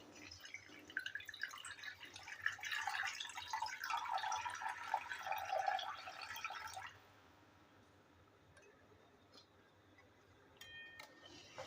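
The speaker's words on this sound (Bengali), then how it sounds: "এবার আমি এতে পরিমাণ মতো জল দিয়ে দেবো।" Water pours into a pan of cauliflower and potato curry, a close splashing trickle lasting several seconds before it stops, followed by faint clinks and quiet background.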